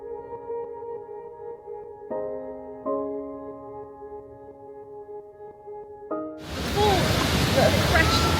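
After several seconds of sustained musical tones, a Moroccan waterfall cascading down rocks suddenly takes over as a loud, dense, continuous rush of water.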